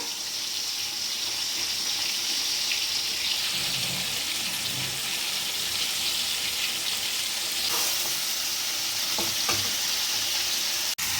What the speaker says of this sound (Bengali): মাংসতে নুন আর গায়ে সব মশলা মাখিয়ে নিচ্ছি মাংসটাকে ফ্রাই করে নিচ্ছি